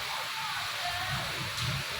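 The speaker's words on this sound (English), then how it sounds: "So the rain at the moment too, it is bursting." Heavy rain from a cloudburst pours down as a dense, steady wash of noise with no breaks, loud and enveloping throughout.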